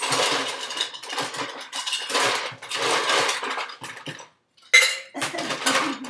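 Ice cubes tumble and clatter into a metal cocktail shaker for a martini in a run of dense, close rattling bursts, a brief pause, then more rattling.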